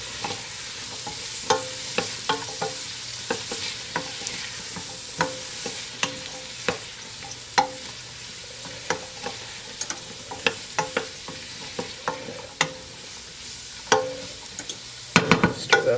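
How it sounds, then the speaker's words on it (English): Chopped celery being stirred in oil in a pot: a close, steady sizzle broken by frequent sharp spoon scrapes and taps against the pot, with no speech. "Stir that around to coat it in the oil."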